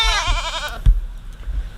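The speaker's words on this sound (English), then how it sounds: "Look at this goat right here." A goat buck on a homestead gives a single loud, wavering bleat close by, lasting under a second, followed by soft shuffling and quiet background.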